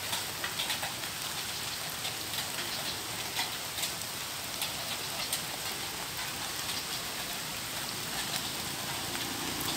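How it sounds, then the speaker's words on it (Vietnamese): Steady rain falls outdoors near a small roadside shrine in Vietnam, a continuous dense hiss with scattered drop ticks on nearby surfaces, close to the microphone and with no voices. "Hiện trời đang mưa cho nên cái điện thoại cũng hơi ướt"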